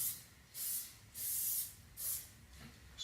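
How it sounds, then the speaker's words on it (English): Spray paint can hissing out graffiti paint in four or five short bursts with pauses between, close and fairly quiet, no talk. "when you're doing the big spray"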